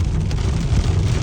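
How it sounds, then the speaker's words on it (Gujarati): Rain falls steadily during a thunderstorm on the way back from Dwarka, a dense, constant hiss over a deep low rumble. "આ રિટર્નમાં આવતા હતા એટલે વરસાદ ચાલુ થઈ ગયો"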